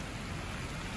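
Steady, dense rain falls without pause at a logging site, a loud, even wash of noise for the whole second.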